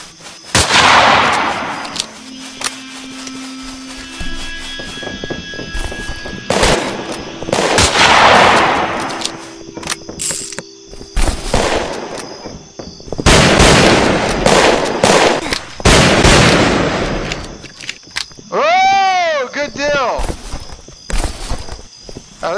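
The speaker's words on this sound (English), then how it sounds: "There's a guy throwing dynamite at us!" Dynamite explosions and gunfire in the Roblox Westbound game: repeated loud bursts and rapid shots scattered across a long stretch, with a player's voice talking over much of the action.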